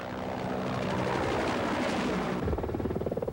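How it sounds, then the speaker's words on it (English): Helicopters circle over Mogadishu, a continuous rotor drone and whir at moderate distance, turning into a distinct rhythmic chopping pulse toward the end. "Helicopters continued to circle in the skies above Mogadishu"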